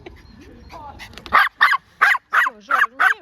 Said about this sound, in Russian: Он какой молодец, служебный пес